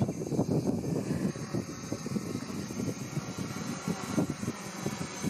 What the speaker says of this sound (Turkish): Bu rüzgar çok fazla. Çok rüzgarlı. Evet, aşırı rüzgar var.